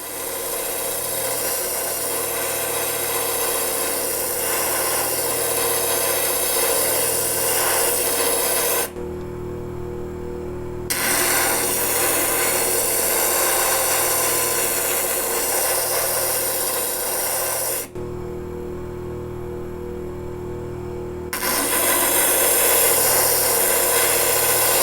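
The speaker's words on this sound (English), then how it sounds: "See, we're starting to grind it away." A rough gemstone being ground on a preforming wheel gives a loud, continuous rasping grind over a steady motor hum, broken by two brief quieter spells where the stone is lifted off.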